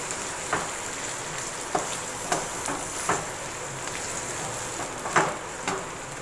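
Hand-minced keema fries in a pan with a soft, steady sizzle, punctuated by occasional stirring scrapes and brief pops, fairly quiet and with no talking.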